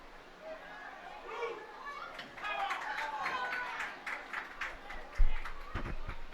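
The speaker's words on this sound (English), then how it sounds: "Crowd is shouting for blue ball." Spectators at a high school boys soccer game shout and call out from the sidelines, a busy mix of raised voices and chatter with a few sharp thumps and claps near the end.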